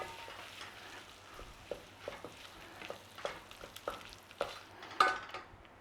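Tomato paste stirred into a frying pan gives a soft, steady sizzle, with scattered light scrapes and taps of a utensil against the pan and one slightly sharper clink near the end.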